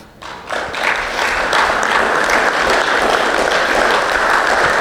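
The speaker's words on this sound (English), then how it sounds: "We give them all a clap." A meeting audience claps together in steady, dense applause that swells quickly and holds for several seconds, close and fairly loud, with no talking over it.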